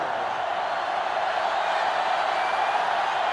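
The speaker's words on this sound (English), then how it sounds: "This sellout crowd is really making a difference now as these guys can't even call the play." Sellout stadium crowd in NCAA Football 2005 on GameCube, a steady, dense roar of many voices at a college football game between Georgia and Ohio State, loud and unbroken throughout with no distinct cheers standing out.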